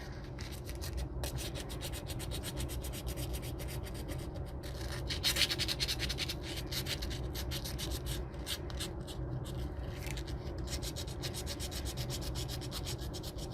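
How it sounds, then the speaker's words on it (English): Sandpaper works back paint on a hydro-dipped tumbler with fast, close scratchy strokes in a steady rubbing rhythm, briefly louder near the middle, with no talking. "I'm just going to sand back a little bit of that color."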